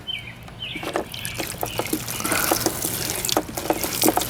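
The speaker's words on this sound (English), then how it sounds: "so I'm gonna let all the water out of my cooler now" Water drains out of a YETI Tundra 35 cooler in a steady splashing trickle, with scattered drips and gurgles and a faint low hum underneath throughout.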